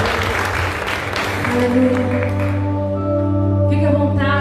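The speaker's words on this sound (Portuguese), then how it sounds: "Você pode aplaudir o Senhor?" A congregation applauds during a Sunday evening celebration service in church, a dense burst of clapping for about two seconds that gives way to sustained organ-like keyboard chords.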